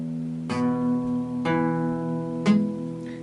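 Three guitar strings are plucked one at a time, each ringing out with a bright attack and a sustained tone, while a muted string underneath gives a dull, damped note instead of a clear ring.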